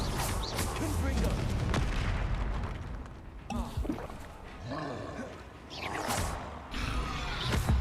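Confringo blasting spells exploding in the video game Hogwarts Legacy, a dense run of booming, crackling blasts that fill the clip at close range, with a brief lull midway before the bursts return.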